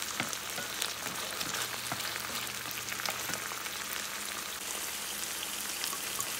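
An ingredient caramelizing in a hot pan before wine goes in: a soft, steady crackling sizzle with scattered tiny pops, heard alone and at an even level throughout.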